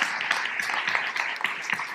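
An audience at a learning festival talk applauds, a continuous patter of many hands clapping at moderate volume for a couple of seconds.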